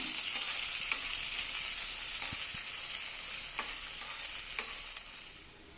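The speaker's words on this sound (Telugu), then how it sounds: "ఈ మీడియం సైజు ఉల్లిపాయ తీసుకున్నానండి వీటిని కొంచెం దోరగా వేగనిద్దాము" A medium-sized onion sliced into strips fries in a pan for a potato masala curry, giving a steady, bright sizzle that stays even throughout and fades slightly at the end, with faint stirring clicks and no voices.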